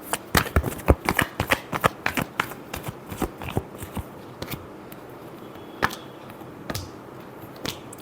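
Deck of tarot cards being shuffled during a reading, a rapid run of close, crisp riffling flicks that starts dense and loud, then thins into scattered single snaps and taps.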